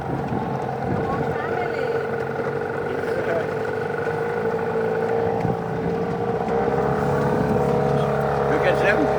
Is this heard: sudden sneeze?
no